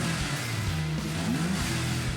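A Can-Am Spyder F3 with a 1330 cc inline three-cylinder engine revs close by, its rich, steady drone swelling and climbing in pitch with each blip of the throttle.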